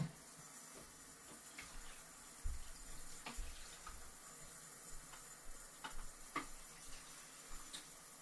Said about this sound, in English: I do use a little bit of water right after the developer.